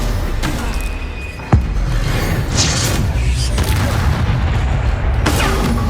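Explosive spell blasts from the Hogwarts Legacy video game, a sharp boom near 1.5 seconds over a dense, continuous rumble of game effects, with further bursts and crackles later, loud throughout.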